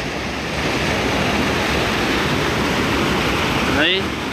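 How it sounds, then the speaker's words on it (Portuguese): Full waterfall at the Mufumba spillway in Ceará, a steady broadband roar of rushing water that holds loud and constant throughout, with a brief whistle-like sweep near the end. "Aqui é a cachoeira da sangria do Mufumba"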